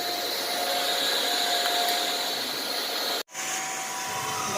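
A hot-air welding machine running continuously while a welding rod fills a cut joint in antibacterial hospital vinyl flooring, a loud steady blowing hiss with one brief dropout near the end.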